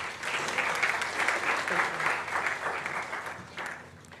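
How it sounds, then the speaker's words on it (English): Steady, dense applause from a conference audience welcomes a panel moderator, sustained at moderate volume before tapering slightly toward the end. "give a round of applause"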